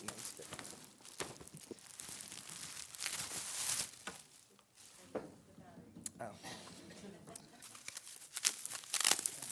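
Paper wrapping on a gift is crumpled and torn open in a room, crinkling and ripping bursts coming close and irregular, with a speaker talking over parts of it.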